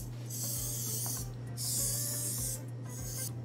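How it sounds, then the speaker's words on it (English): Release spray hisses into a brioche mold in three short, close bursts, with a steady low hum running underneath throughout. "I have to slightly spray it in order to release the ring more easily"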